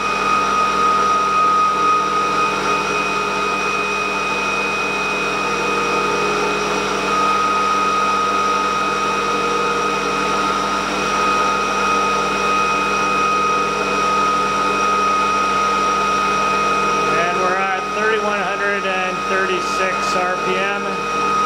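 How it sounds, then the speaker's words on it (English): An ebike EV motor at about 3,128 RPM drives a regenerative acceleration generator, producing a steady, loud electric whine layered with tonal hum. A brief warbling flutter joins it near the end. "Regenerative acceleration mode, just the EV's motor running the system."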